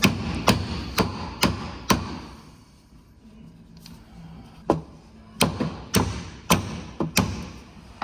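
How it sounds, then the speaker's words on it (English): A mallet drives a wishbone bush into place on a VW Tiguan suspension arm, giving close, sharp metallic blows in two rhythmic bursts with a short pause between them. "Where's my mallet? Could drive this home a bit further."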